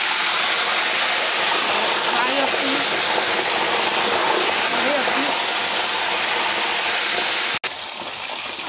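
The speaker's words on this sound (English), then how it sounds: "As I'm frying my fish in that pot" Bonga fish fry in a pot of hot oil on a home stove, giving a loud, steady, dense sizzle that continues unbroken, with a voice faintly underneath.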